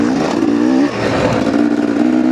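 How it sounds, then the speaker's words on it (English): Two-stroke dirt bike engine droning while being ridden, a close, buzzy mid-pitched tone that dips briefly as the throttle eases, then picks back up. "Probably the best two-stroke I've ever ridden"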